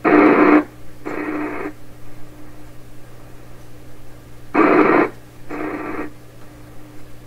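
Signal injection tone through a 1928 RCA Victor Model 28V radio during alignment: two pairs of short buzzy tone bursts, the first pair louder, over a steady low hum and faint static.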